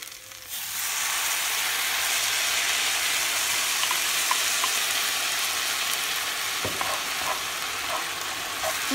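Chow mein with asparagus, chicken and mushrooms sizzling in a pan, a continuous bright crackling fry with a few stirring scrapes and clinks partway through, close and steady with no talking.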